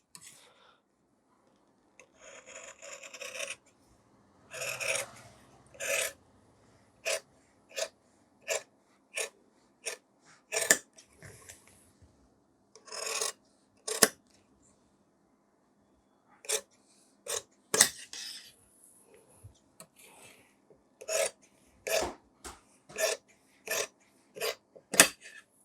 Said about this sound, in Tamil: இப்போ அப்படியே கையை கட் பண்ணிடலாம்.